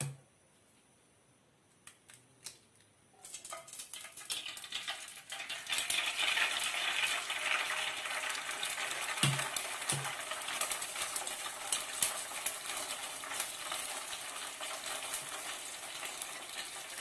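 Eggs fry in a little oil in a pan: after a few quiet clicks and taps, a close, steady sizzle bursts in and continues, with occasional light clinks.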